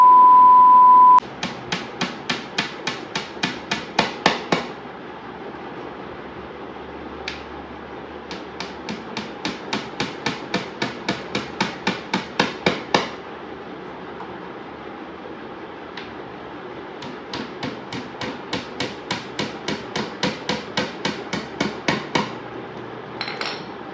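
Rapid bursts of hammering or knocking while assembling an IKEA cot, fast runs of sharp taps repeating in several groups with short pauses between, loud and close with no talking.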